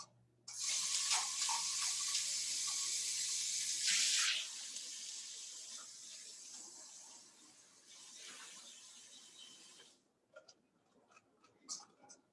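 Water runs from a tap into a sink as a container is rinsed out, a steady hissing stream that shifts as the container moves, then stops, leaving a few small drips and clinks.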